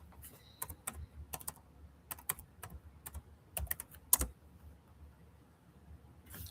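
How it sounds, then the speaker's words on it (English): Typing on a computer keyboard: scattered bursts of quick keystrokes, fairly close and soft, with short pauses between runs and no talk. "Let me get it typed in."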